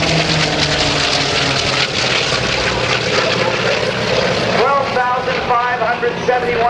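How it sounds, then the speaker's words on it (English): An F4U Corsair piston-engine fighter flown by the Collins Foundation at an air show makes a photo pass, its propeller engine drone steady and loud throughout, with a brief rising tonal sweep near the end. "It's that F4U Corsair doing a photo pass."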